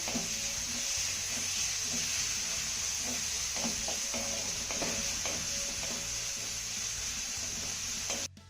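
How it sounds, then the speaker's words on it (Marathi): Chopped onion sautéing in hot oil with cumin, a steady loud sizzle with occasional stirring scrapes of a spoon in the pan, continuing evenly until a sudden stop at the end. "कांदा आपल्याला हलक्या सोनेरी रंगावरती चांगला परतून घ्यायचा आहे"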